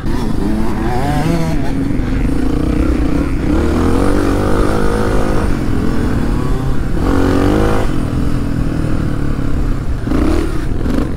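A Suzuki DR 350 trail motorcycle roars loud and close on an enduro course, its engine revving up and down in surges during a wheelie attempt, with continuous throttle changes and no break in the noise.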